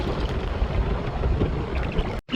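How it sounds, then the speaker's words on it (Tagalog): Wind blows steadily against a small boat off Coron, Busuanga, Palawan, a broad rushing roar with faint water slapping beneath, continuous and close, cut off abruptly near the end. "Ayan na, mahangin na."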